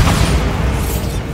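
Bombarda explosion spell cast in Hogwarts Legacy, a loud, dense low boom that rumbles steadily through the whole short moment without a clear attack or decay.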